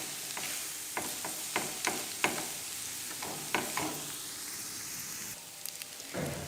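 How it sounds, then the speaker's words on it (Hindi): Noodles and vegetables for egg vegetable chowmein are tossed and stirred in a hot pan, with repeated scraping strokes of a spatula over a steady sizzle, close and fairly loud. "इस तरह नूडल डालने के बाद हम इसे मिक्स कर लेंगे सब्जियों को अच्छी तरह से"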